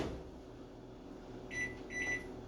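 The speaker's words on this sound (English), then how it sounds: "Throw that in the microwave for like a minute and a half." A microwave oven heating food with a steady low hum and drone, close by, with a couple of brief higher tonal swells near the end and no talking.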